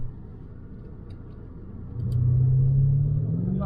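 A BMW M5 accelerates on a track, its engine rising from a low idle-like rumble into a steady, louder drone heard from inside the car.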